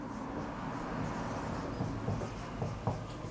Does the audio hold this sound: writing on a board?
yes